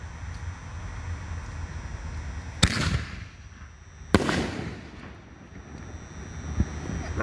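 A Raccoon Fireworks Nishiki Blast 5-inch canister shell with a willow and blue effect bursts outdoors in two loud, sharp booms a second and a half apart, each trailing off into a crackling, rumbling decay over steady wind.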